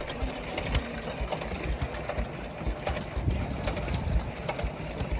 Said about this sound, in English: a display of some really amazing vintage power engines